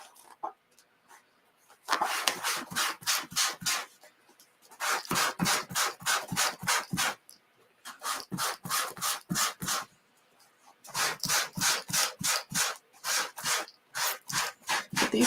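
A wet board eraser wipes a chalkboard in several bursts of rapid, close back-and-forth rubbing strokes, separated by short pauses.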